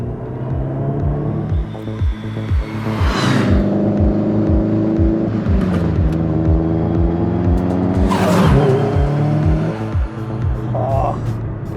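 Tuned original Audi S3 accelerating hard, its engine droning loudly and climbing through the revs in repeated pulls. Voices talk over it.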